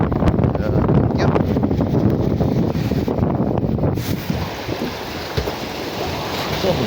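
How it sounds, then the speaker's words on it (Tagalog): Strong wind buffets a boat at sea on a blue marlin fishing trip, a rough, constant roar across the microphone with water noise beneath, easing slightly after a few seconds. "So, lumakas ng hangin."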